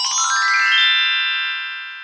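A mobile phone ringtone plays alone: a bright, steady electronic melody of clear tones that rises and then holds, loud and close, fading slightly toward the end.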